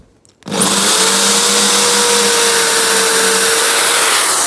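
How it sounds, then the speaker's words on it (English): A power drill spinning a nail as a bit to bore through wood, a loud, steady high-pitched whine that starts abruptly and holds constant, with no talk over it. "So if you take your nail and you drill a hole with the nail"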